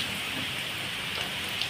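Soybean pakoras fry in hot oil with a steady, dense sizzle that stays even and close throughout, with no voices.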